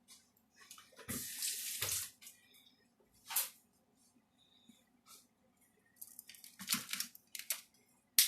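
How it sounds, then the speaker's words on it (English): Water runs into a jar of chicken parmesan sauce in a home kitchen, in short bursts of close, hissing pouring and splashing separated by quiet gaps. "I just put a little bitty tiny bit of water in there"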